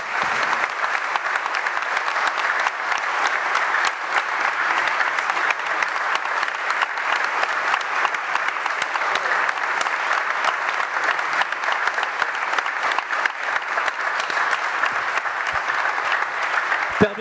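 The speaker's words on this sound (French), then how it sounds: "Ils étaient vos invités, applaudissez-les," An audience at a talk on more humane, sustainable capitalism applauds loudly and steadily, a dense, even clapping that goes on without a break.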